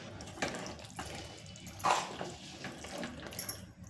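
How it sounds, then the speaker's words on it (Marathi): Water is poured into a masala mixture for chicken biryani, giving soft splashing and trickling bursts close by, with one stronger splash midway and no voices. "ह्याच्यामध्ये मी थोडं पाणी टाकत आहे."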